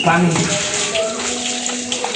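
During a bath, water is poured and splashes in a steady rush close by, with voices talking over it.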